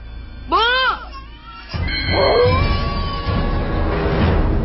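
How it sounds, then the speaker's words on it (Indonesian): A dog howls from a backyard as a radio horror drama effect, a rising and falling wail heard early and fairly close, followed by a loud, noisy rumbling bed of sound. "Yang ada hanyalah suara lolongan Dobi dari arah halaman belakang"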